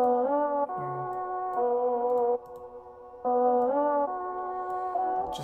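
A hip-hop beat made with the BWB Wave 7 drumkit plays through a low filter, EQ and reverb, with sustained tonal chords that switch in blocks and carry a spacious, echoing tail.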